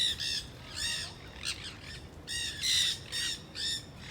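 Free-flying parrots at the St. Petersburg pier downtown give loud, harsh squawks in repeated bursts, one after another, close by over a low steady background rumble.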